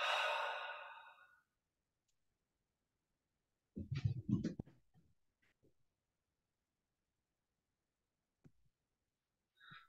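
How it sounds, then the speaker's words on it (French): A single long exhale through the mouth after a held breath, close and airy, fading out over about a second, then quiet with a few faint rustles and soft breath noises. "On détend les muscles et on expire par la bouche."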